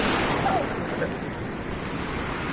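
Sea waves break and wash continuously around a person sitting on the shore, a loud, steady surf roar with wind buffeting the microphone throughout.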